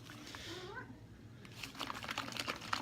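Two agitated cats meowing in a basement, a rising, wavering yowl near the start followed by scattered clattering and tapping noises, fairly close but not loud.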